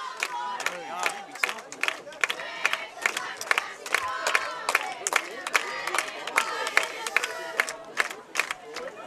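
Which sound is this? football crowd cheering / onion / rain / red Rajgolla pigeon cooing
football crowd cheering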